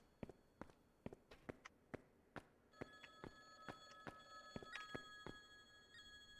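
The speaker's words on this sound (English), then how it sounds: "The phone is ringing. Answer the phone." A telephone rings in the video game Silent Hill, its bell tones joining partway through over a steady rhythm of footsteps that continue throughout, fairly quiet overall.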